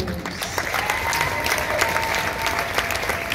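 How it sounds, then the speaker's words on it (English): A room of people applauding at a council gathering, steady, dense clapping from many hands that holds at an even level throughout, with no speech over it. "Please give my colleagues a huge hand of applause."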